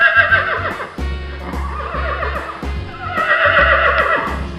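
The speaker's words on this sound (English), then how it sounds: "here we have gray color horse." A gray horse neighs loudly and close, with repeated whinnies and snorting bursts across several seconds, with no voices.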